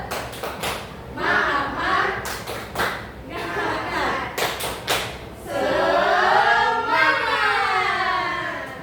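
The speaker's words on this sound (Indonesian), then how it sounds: "Oke, kita tepuk semangat dulu ya." A classroom group does a rhythmic spirit-clapping chant: bursts of sharp claps in patterned sets alternate with voices chanting along, and a longer stretch of group vocalizing closes the sequence.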